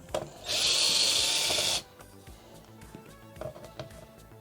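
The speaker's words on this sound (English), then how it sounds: "Using a screwdriver when I have a drill." A power drill whirs loudly in one continuous burst of about a second, backing screws out of an Arcade1up cabinet during a 20-inch screen mod, then the room goes quiet with light handling noise.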